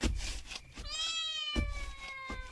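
A cat meowing, one long drawn-out meow in the middle, close and clear, with thumping knocks before and after.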